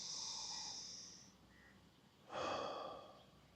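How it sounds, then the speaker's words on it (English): Slow, deep breaths during a breathing exercise focused on the upper chest: a long airy inhale, a pause, then a stronger, fuller breath, close and quiet with no speech. "Breathing only into the upper chest."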